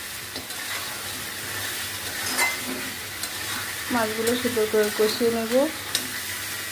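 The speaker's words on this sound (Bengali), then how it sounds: "এখন আমি মাছগুলো সুন্দর করে কষিয়ে" Fish with spices sizzles in a pan for a Bengali muri ghonto as a utensil stirs, with soft frying hiss and a run of scraping stirs; a brief word is spoken.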